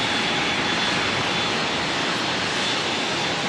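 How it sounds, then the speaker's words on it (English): Air Chatham's ATR 72-500 turboprop arriving from Queenstown at Auckland Airport gives a dense, unbroken engine roar, loud and close for the whole short stretch. "We'll get this ATR coming in."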